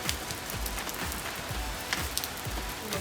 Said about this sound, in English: It's not even raining that hard, but it's like a real life flood.